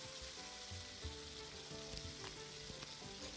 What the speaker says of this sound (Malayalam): നമ്മളിത് സിമ്മിലിട്ടിട്ടാണ് കേട്ടോ ഫ്രൈ ആക്കി എടുക്കണം